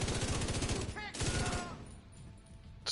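Gunfire in The Division 2 rattles in fast, loud automatic bursts, pausing briefly before another burst, then fading into quieter background noise.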